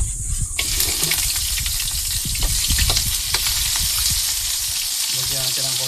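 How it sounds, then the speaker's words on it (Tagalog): Pork frying in hot cooking oil in a home kitchen: a loud, continuous close sizzle and crackle with occasional stirring noises, a brief rhythmic tapping near the end, and no talk. "Init na yung mantika, iprito muna natin yung kanyang baboy."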